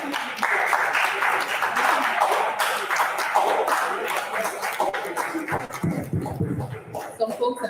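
Conference audience clapping at an open-source summit, a sustained crowd wash that thins out toward the end, with voices mixed in.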